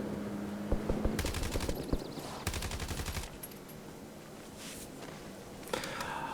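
Gunfire in a gunfight in the video game Warzone: two sharp bursts of rapid automatic fire, fairly close, separated by quieter footsteps and ambient rustle, with no talking.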